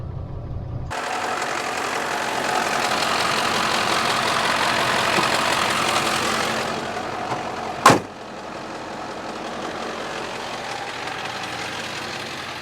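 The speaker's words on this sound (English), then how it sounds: "I just need to let this engine get hot." A car engine idles steadily while warming up before a drive, a continuous low rumble with a brief sharp click or knock partway through and a slightly quieter, even idle afterward.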